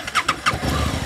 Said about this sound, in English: I'll turn on the bike right now.